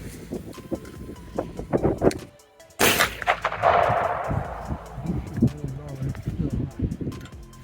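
A customized Pardner shotgun fires a slug with one loud, sharp blast and a rolling outdoor echo, with people talking before and after.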